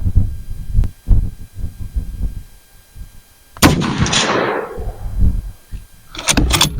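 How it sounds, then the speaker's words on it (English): A budget rifle fires SST ammunition in a three-shot group, giving one loud close blast with a long rolling echo that dies away, and a second report starting at the very end, with thumping handling noise before it. "We're going to do a 3-shot group out of this with SSTs."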